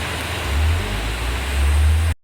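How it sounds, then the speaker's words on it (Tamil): Near Mattupetty Dam in Munnar, a waterfall gives off a continuous, loud, broadband rush of falling water that holds steady for about two seconds, then cuts off abruptly. "அந்த ஃபால்ஸில் பாருங்கள் தண்ணி எப்படி விழுகுதுன்னு"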